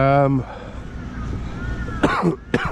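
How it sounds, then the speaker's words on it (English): Inside a large supermarket, a voice trails off, then two sharp coughs follow close together, loud and close by. "he keeps coughing"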